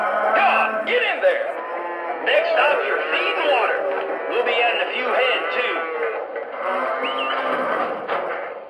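Recorded cow moos from a toy train stock car's unload sound effect play back repeatedly, long and drawn out, overlapping one another in a continuous lowing chorus.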